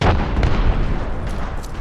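Grenade explosion in the battle royale shooter Apex Legends, a loud booming blast at the start with a deep rumbling tail and scattered pops fading over the next second or so.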